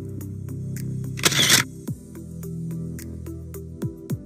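Redmi Note 10s phone camera firing a simulated shutter for a selfie: one loud, sharp burst of noise near the middle, set against soft music with light plucked notes.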